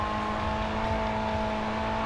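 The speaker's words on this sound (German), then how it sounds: "Hier ist ein Ford Mustang, Ford GT." A Ford GT engine in GRID 2 holds a steady, loud, close drone with a constant whine on top, pitch barely changing through the brief moment, and no voices.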